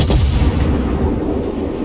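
Naval cannon salvo from a heavy cruiser in World of Warships, a loud booming blast with rumbling tail filling the short moment, no talk over it.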